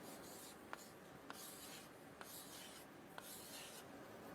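Numbers written on a board, heard as faint, close scratchy strokes of a pen or chalk, with small taps as each stroke begins, coming in a slow steady rhythm.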